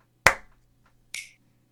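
Two sharp hand claps about a second apart, the first louder, with a quiet pause between and no talking, as a group claps together on a count of three.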